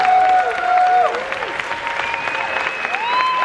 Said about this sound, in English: Give this woman the applause she deserves.